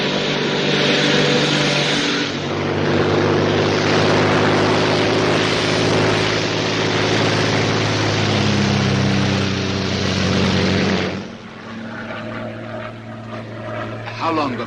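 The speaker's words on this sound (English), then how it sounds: "a Royal Air Force plane is waiting for us at a secret landing place" A Royal Air Force propeller plane drones loudly and steadily in flight, a dense engine roar that fills the whole stretch before easing down near the end, where a voice briefly comes in beneath it.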